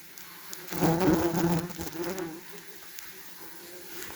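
A dense buzz of German wasps at a nest swells in close for about a second, then thins out and lingers more faintly, with a steady drone behind it.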